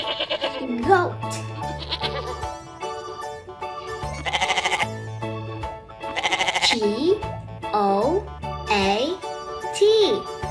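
Several goat bleats, loud and close, spaced across the stretch in wavering calls, set over repeated low synthetic tones, with a child-like voice speaking between them.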